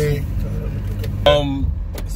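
Low steady engine rumble fills the cabin of a car setting off on Christmas morning, with a short burst of rattling and a faint voice partway through.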